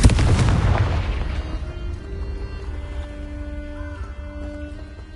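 Confringo blasting spell from Hogwarts Legacy, an Acromantula cave video game: a single loud booming explosion at the start whose rumbling tail slowly fades, with faint tonal game ambience continuing beneath.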